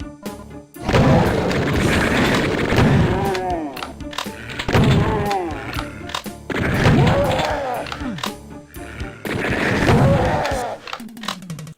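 Super Shotgun blasts from the PC game Doom 2 come in loud, heavy bursts, several booming shots grouped in clusters with short gaps between them.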